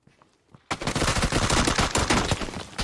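Rapid automatic gunfire in a video game erupts suddenly after a quiet start and keeps going as one loud, dense, continuous burst.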